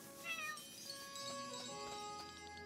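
A cat meows in the video game Chained Echoes, a short, faint, tonal call set against soft game music.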